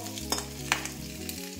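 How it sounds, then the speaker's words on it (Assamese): Rice fries in a pan for Assamese khar bhat with a soft sizzle and a couple of quick scraping stirs, over a steady tonal drone in the background. "এতিয়া ভাতখিনি অলপ ভাজিব লাগিব"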